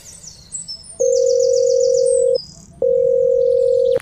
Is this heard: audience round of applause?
no